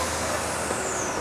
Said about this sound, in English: All the cement trucks waiting here to go in.